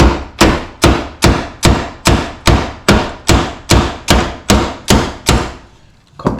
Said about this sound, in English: I don't have a ball joint puller, so we're just gonna hammer this out.